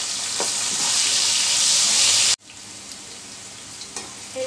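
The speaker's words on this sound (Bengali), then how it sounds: "এই তো আমার ঢেঁড়সটা ভাজা হয়ে গেছে" Whole okra fries in hot oil in a pan, a loud steady sizzle that cuts off abruptly, leaving a faint low hiss with a few light clinks.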